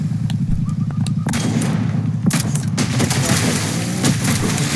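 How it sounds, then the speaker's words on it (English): Three large cannons on a player-built boat in a video game fire in a rapid string of heavy booms, one after another, loud and close, with an ongoing rumble beneath. "Got 3 large cannons to go that kaboom."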